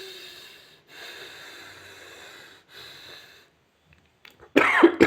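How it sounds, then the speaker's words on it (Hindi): Deep bhastrika breaths drawn through the right nostril alone, a few airy rushing passes with short gaps, ending in a louder, sharper burst close to the listener. "डीप ब्रीदिंग कीजिए, वो सिर्फ दायां नाक से कीजिए।"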